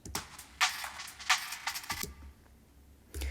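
A choppy jungle drum loop plays backwards, with swelling hits and sucked-in cymbal noise cutting off abruptly, fairly quiet and without any voices.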